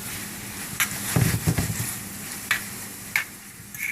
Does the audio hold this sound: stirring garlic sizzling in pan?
yes